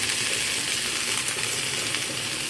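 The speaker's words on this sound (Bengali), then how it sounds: "কেটে রাখা শাকগুলো এখন এর মধ্যে আমি দিয়ে দিচ্ছি।" Chopped greens hit a pan of frying pumpkin for a vegetarian pumpkin and Malabar spinach dish, giving a steady, fairly loud broadband sizzle that holds evenly throughout with no talking.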